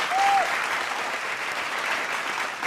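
Loud, dense applause from a television studio audience greeting a political guest, a steady roar of many hands clapping close and full throughout.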